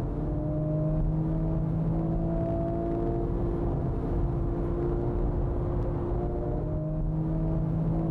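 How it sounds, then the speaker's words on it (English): Porsche GT3 and Honda Type R race cars at Fuji Speedway, engines droning steadily at high speed with sustained tonal whine, close and continuous throughout. "The GT3 jumps into the slipstream of the Type R."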